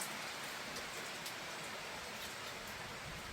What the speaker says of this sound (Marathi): आता जरा कमी झालाय पण खूप मोठा पाऊस येत होता